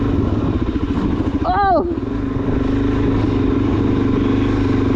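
A Suzuki DRZ400SM motorcycle riding along a wet road, a steady close engine drone with a hiss of spray from the tires. A rider gives a brief shout partway through.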